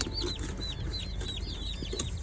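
Chickens on a homestead give a rapid run of short, high clucks, repeated close together over a low background rumble, with no voices.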